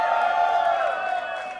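Comedy roast crowd cheering and whooping for a rap crew, a dense sustained roar of voices that stays loud throughout and eases slightly near the end.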